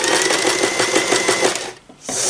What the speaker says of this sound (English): you simply have to just sew over that line